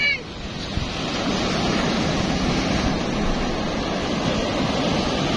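Large ocean waves surge and crash steadily onto the shore, a loud, continuous roar of surf with wind noise buffeting the microphone throughout.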